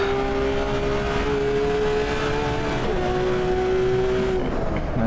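Porsche 911 GT3 RS engine from a racing video game, lapping Laguna Seca: a steady, loud high-revving drone with a sustained pitch that drops briefly at a gear change around the three-second mark, then climbs again with another shift near the end.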